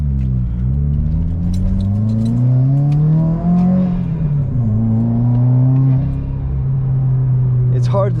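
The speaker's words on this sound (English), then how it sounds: "Let's gun it. That was an aggressive backfire." Modified Subaru WRX accelerating hard from inside the car: a loud, steady engine drone rising and falling in pitch through the gears, ending with a sharp crackle of exhaust backfire.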